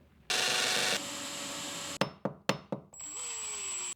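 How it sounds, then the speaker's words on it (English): A power drill drilling into a wall for wall plugs whirs in a short loud burst, followed by several sharp hammer taps and a final steady whine, close by. "drill into the wall, put a wall plug in it, attach the clip"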